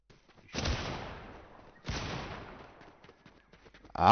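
Gunfire in a video game, two loud cracking shots about a second and a half apart, each leaving a long decaying echo, with no talk over them.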